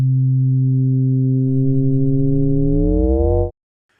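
A synthesizer tone under linear frequency modulation sounds alone and steady, then its pitch begins rising and wobbling before it cuts off abruptly.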